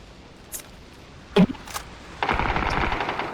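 Gunfire in the battle royale game PUBG: a few sharp isolated shots early on, then a dense burst of rapid automatic fire filling the last second, fairly close and loud with no talk.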